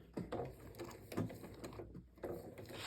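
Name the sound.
Janome Memory Craft 6600 sewing machine stitching a buttonhole stitch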